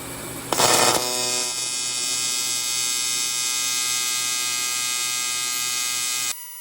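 AC TIG welding arc on aluminum with filler wire fed in, a steady close electrical buzz with a steady hum underneath, a brief louder crackle near the start, running several seconds before cutting off abruptly.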